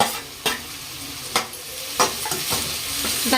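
Onion and tomato fry in a pan for egg bhurji: a constant hiss with four or five sharp scraping stirs spaced a second or so apart, close and clear, no voices.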